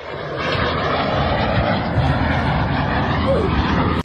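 A small private Fouga Magister jet flies during an air show over the sea, its engine giving a loud, steady roar that holds evenly throughout and cuts off abruptly at the end.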